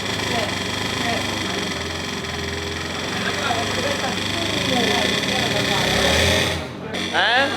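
A supermoto motorcycle revving and droning on a hilly race track, its engine note steady and buzzing before dipping and rising again near the end, with a rider's voice talking over it.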